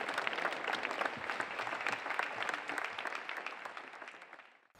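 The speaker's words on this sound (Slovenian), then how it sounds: "morda še en aplavz za vse, ki so letos kakorkoli pripomogli k izvedbi 40. festivala" A festival audience at the 40th Stična youth festival applauds the organizers, a dense, steady crowd clapping that holds for several seconds then tapers off.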